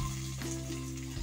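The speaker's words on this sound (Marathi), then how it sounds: "आणि मिरची फ्राय झाली आहे। शेवट टाकणार आहोत हिंग" Green chillies and asafoetida frying in hot oil as a tempering for Maharashtrian yogurt kadhi, giving a soft continuous sizzle under a low steady hum.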